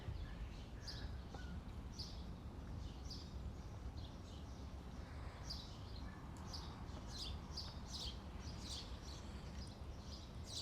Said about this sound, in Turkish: Böyle kuş seslerinin içinde doğanın ortasında uyanmak gerçekten şahane.